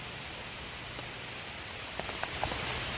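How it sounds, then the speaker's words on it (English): Steady rain falls on a campsite by a hammock in a broad, even hiss, with a few sharper drop taps near the end and no voices. "I don't know how long this rain's gonna last."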